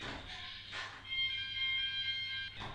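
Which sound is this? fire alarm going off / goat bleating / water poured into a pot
fire alarm going off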